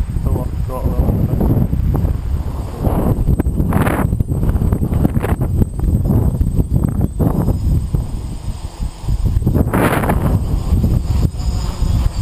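Strong, gusty wind buffets the microphone around a DJI NAZA GPS quadcopter flying in high winds, with loud, continuous low rumbling and surges, a faint motor whine, and someone talking throughout.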